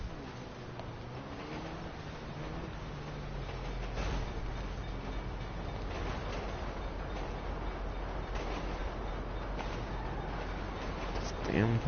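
Train rumbling past in Grand Theft Auto Online, a steady low roar with rattling and a brief horn-like tone, filling the scene continuously and swelling loudest near the end.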